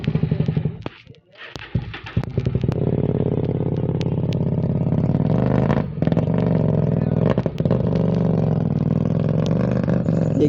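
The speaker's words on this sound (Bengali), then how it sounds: "এক্সজস্ট সাউন্ড শুনছো, সেরা সাউন্ড" A motorcycle engine runs near and loud, its exhaust giving a steady throbbing idle with a few brief dips and blips of throttle. No talk is heard over it.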